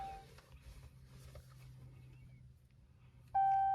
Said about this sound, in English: I always wait for the engine, or check engine light I should say, to start beeping.